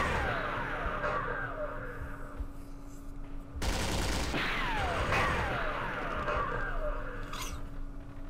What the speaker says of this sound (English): So again, machine guns coming from the hillside.